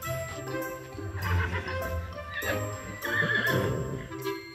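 A rescued horse neighs and whinnies in several close, loud calls over a few seconds, with faint jingling nearby.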